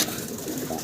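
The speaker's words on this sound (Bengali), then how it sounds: "বড় কবুতর নাড়াচাড়া করাটা ঠিক না" Pigeons softly cooing inside a pigeon farm with breeding pairs and chicks, a brief, close, low murmur of coos with light background rustling.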